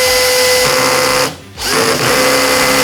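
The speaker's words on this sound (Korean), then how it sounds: "드릴 드라이버로 토크를 한 3토크 정도 놓으면 어디까지 박히나 피스를 체결해 보도록 하겠습니다" A Stanley drill driver set to torque 3 drives a screw into wood: a loud high whine runs, cuts out sharply as the clutch stops, then whirs up again, close and alone.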